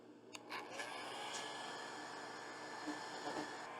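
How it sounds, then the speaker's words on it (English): A hair dryer powered by a 2000W inverter under more than full load whirs in a steady, fairly faint drone, with a few small clicks at the start. "let's add the hair blower dryer"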